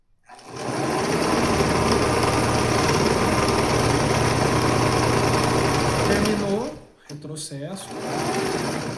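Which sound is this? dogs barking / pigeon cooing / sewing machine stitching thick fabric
sewing machine stitching thick fabric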